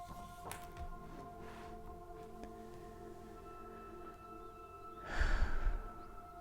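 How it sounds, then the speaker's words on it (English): A slow, deep breath taken during a calming yoga practice, heard as one soft, breathy exhale swelling near the end over a quiet, steady background. "take those nice long deep breaths that help calm us"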